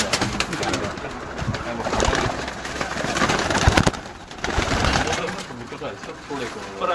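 Rooftop pigeons coo repeatedly nearby in soft, rolling calls, while people talk over them through most of the stretch.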